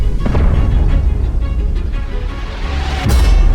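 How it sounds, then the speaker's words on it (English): A suppressed .45 FN 545 Tactical pistol fires outdoors, with muffled thumps and a sharp impact crack from a target downrange near the end, over a heavy low rumble. "the loudest sound you hear when you suppress a 45 is the quarter-ton of impact downrange"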